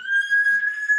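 A bull elk call imitated by a person, a single sustained high whistling note held steady for about a second, close and loud with nothing else underneath.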